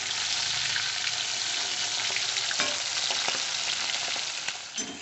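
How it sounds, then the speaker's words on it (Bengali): Two pieces of pomfret fish fry in hot oil in a pan, giving a loud, steady sizzle and crackle with a few brief stirring or scraping knocks near the end. "এবার আমি এই তেলের মধ্যে প্রথমে 2 পিস মাছ ছেড়ে দেব, দিয়ে 2 পিস মাছকে প্রথমে খুব ভালো করে ভেজে নেব।"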